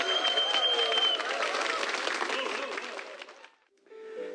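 Church audience applauds to welcome a deaconess of Gimpo Jeonwon Church onto a Christian TV testimony program; dense, steady clapping from many hands fills the room for about three and a half seconds, then fades out with faint background sound.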